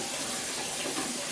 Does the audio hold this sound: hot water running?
yes